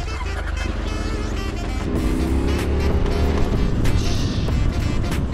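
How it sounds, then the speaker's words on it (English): A motorbike engine fires up and rumbles steadily as it pulls away on a mountain ride along the Bernina Pass in Switzerland, its loud drone continuing under wind and road noise. "the sound of this bike is absolutely amazing"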